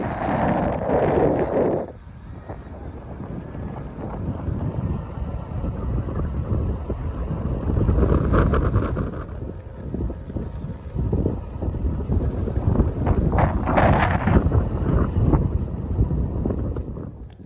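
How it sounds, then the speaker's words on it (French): Heavy headwind buffets the microphone continuously on a hot road, a loud low roar with gusting surges throughout. "Le vent de face."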